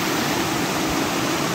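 Water rushes at the Poza de la Laja natural swimming pool in Tehuetlán, Hidalgo, as a steady, dense, close wash of sound with no voices.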